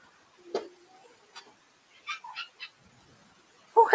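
A house cat meows several times at night in a quiet room, short separate calls close by, with a louder meow at the end.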